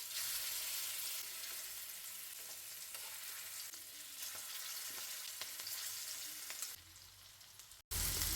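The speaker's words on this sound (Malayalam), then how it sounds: "കോവയ്ക്ക ഉപ്പുമുളക് തേച്ച് വെച്ചിട്ടില്ലേ അത് വറക്കാട്ടാ" Ivy gourd pieces coated with salt and chilli fry in hot oil with a loud, steady, crackling sizzle that holds almost unbroken, dipping briefly just before the end.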